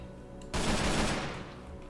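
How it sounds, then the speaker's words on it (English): A Minecraft AK rifle fires in rapid automatic bursts like a machine gun, a dense loud clatter that starts abruptly and runs steadily before easing off slightly, with no voices. "The AK is literally like a machine gun."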